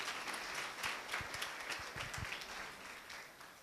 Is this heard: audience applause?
yes